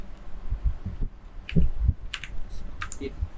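Keys clatter on a computer keyboard while Python code is typed, a quick uneven run of close clicks and thumps over low room noise, with no talk.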